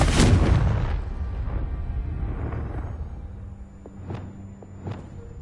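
A Confringo explosive spell in Hogwarts Legacy bursts with a loud, deep boom that rumbles and fades over several seconds, followed by a few fainter, sharper magical pops and whooshes.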